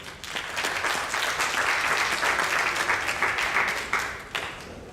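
A conference audience breaks into applause after a presenter is announced, a dense, steady wash of clapping that carries on for about five seconds at an even level.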